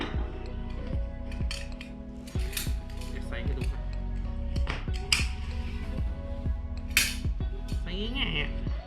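Lead dive weights sliding onto a diving belt make repeated metallic clinks and knocks at close range in an irregular rhythm, with a voice talking underneath.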